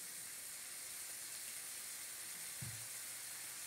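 Beef sizzles steadily as it sears in a hot skillet, a constant frying hiss close by, with a faint low knock partway through.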